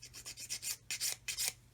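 An ordinary fingernail file stick rasps over a plastic part while building a 1/32 Kitty Hawk OV-10A/C Bronco model, giving about seven quick, close scrubbing strokes in an uneven rhythm with no voices.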